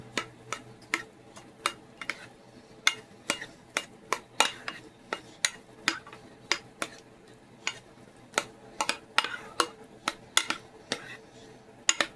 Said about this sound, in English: Let's stir it all up.